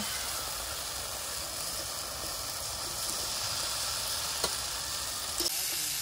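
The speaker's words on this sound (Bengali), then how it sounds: "এবারে মানটা দিয়ে দেবো এর মধ্যে, মানটা দিয়ে কিছুক্ষণ নাড়াচাড়া করব।" Taro (mankochu) being stirred into a frying spice paste in oil in a home kitchen: a steady, close sizzle and hiss with faint scraping of the spoon and a few brief knocks near the end.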